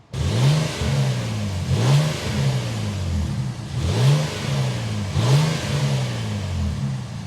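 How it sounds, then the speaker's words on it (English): Twin-turbo V6 of a 2025 Infiniti QX80 luxury SUV revving repeatedly in short, rhythmic bursts, each rising then falling back, loud and close with a deep exhaust note and no talking. "start it up, so you can hear that twin turbo V6 exhaust note"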